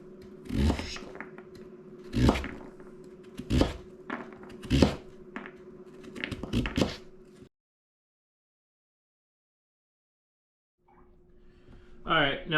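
A knife chops vegetables on a cutting board in about five firm thunks under a constant hum, then silence, then a few softer sounds at the end.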